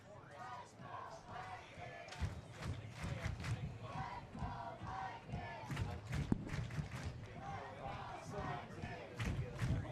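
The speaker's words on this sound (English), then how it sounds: "the crowd for Marysville is starting to get into this a little more" A crowd at a Marysville high school varsity football game against Marine City cheers and yells steadily, with rhythmic chanting, stomping and scattered shouts heard from the stands over the whole stretch.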